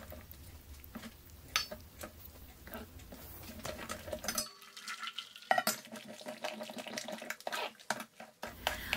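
Freshly squeezed pomegranate juice trickles and splashes through a sieve into a bowl, a soft, uneven liquid pattering broken by a brief pause and a few louder spoon or sieve clinks.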